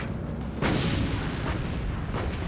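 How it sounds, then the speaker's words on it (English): Five-inch naval guns aboard the destroyer Laffey fire in heavy booming bursts, a few strong reports spaced over a dense, rumbling battle background. "Laffey's 5-inch guns quickly open fire"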